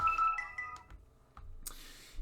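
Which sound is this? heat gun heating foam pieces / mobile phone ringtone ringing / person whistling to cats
mobile phone ringtone ringing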